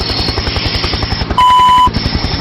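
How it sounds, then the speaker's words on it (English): Loud, rapid rotor chop of a helicopter beats in an even, fast pulse throughout, briefly covered midway by a steady electronic beep tone before the chopping resumes. "a helicopter's sound echoed in the distance"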